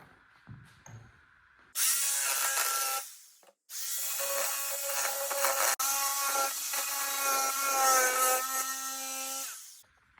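A saw cuts through a door threshold for laminate flooring. It gives two loud, close bursts of whining cutting noise, the second one long and sustained, with a short pause between them and quiet at both ends.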